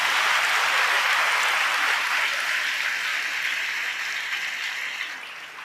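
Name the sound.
congregation clapping to glorify God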